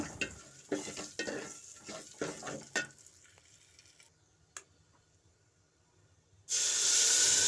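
Masala with cumin pepper powder being stirred for tomato rasam: several rough scraping stirs with sizzling over the first few seconds, then a near-quiet stretch with a single tap, ending in a sudden loud steady hiss.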